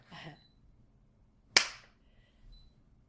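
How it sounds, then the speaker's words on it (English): A single sharp hand clap, close and loud, standing alone in a quiet room at the restart of a recorded conversation, with faint voices briefly before it. "We'll clap one more time"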